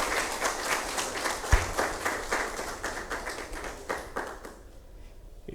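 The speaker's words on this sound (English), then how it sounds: "Ladies and gentlemen, can we give him a very big round of applause?" Applause from a seminar audience, steady clapping from a modest group that fades toward the end, with one sharp knock partway through.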